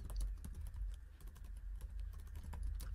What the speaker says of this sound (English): And now they can start typing in their problem.